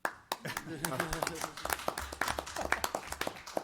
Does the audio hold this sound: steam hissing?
no